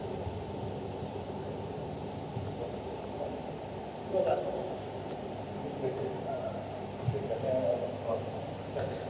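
An electric fan runs loudly with a steady whooshing roar like an airplane. The broad, even rush holds for several seconds at moderate volume, with a few faint knocks.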